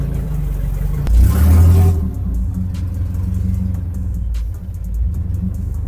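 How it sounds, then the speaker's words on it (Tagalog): A Toyota 4K engine breathing through headers and a drag pipe exhaust gives a sharp, loud rev burst, then settles into a rough, throaty idle rumble close by. "So, itong isang to, 4K engine lang naman to. Pero parehas sila nung 4AG na exhaust. Naka-headers din at naka-drag pipe."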